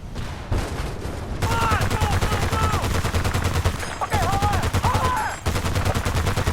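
Rapid automatic gunfire in Battlefield Bad Company 2 rattles continuously with steady rhythmic shots, while a voice talks over it.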